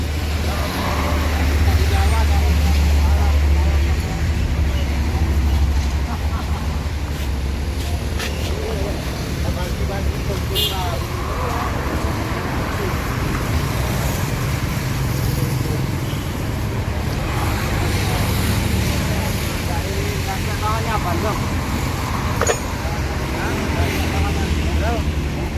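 Putra Remaja bus pulling away on an Indonesian road, with a steady low engine drone and passing traffic noise running throughout at constant loudness, while people talk over it.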